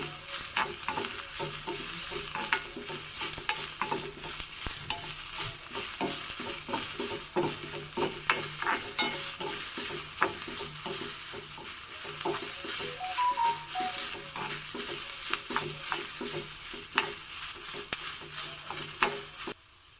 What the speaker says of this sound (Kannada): ಚೆನ್ನಾಗಿ ಹುರ್ಕೊಳ್ಳೋಣ ಈರುಳ್ಳಿ ಸ್ವಲ್ಪ ಟ್ರಾನ್ಸ್ಪರೆಂಟ್ ಆಗಬೇಕು ಅಲ್ಲಿವರೆಗೆ ಹುರ್ಕೋಬೇಕು